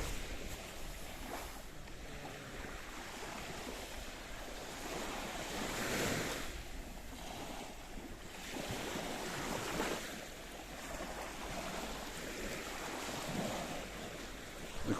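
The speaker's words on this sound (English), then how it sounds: "It's kissing and it's lapping the coastline of downtown Cato Paphos." Mediterranean Sea waves wash steadily against the coastline of downtown Kato Paphos, a continuous broadband surf with gentle swells rising and falling every few seconds, blended with some wind noise across the microphone and no talking.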